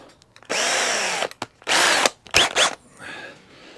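A close power drill whirs in three bursts through a pre-drilled pilot hole while fitting a tiller to a strimmer, the motor speed rising and falling as the bit bites through material, with short pauses between.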